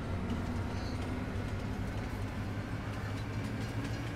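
A train rolls steadily along the track in Farming Simulator 22, a continuous low rumble with faint rail clatter, constant in level and heard without talk.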